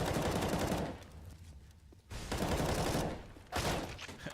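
Counter-Strike gunshots on the Mirage map in a Cloud9 vs Immortals match ring out in loud bursts of rapid fire separated by brief quieter gaps, close and sharp with no talk.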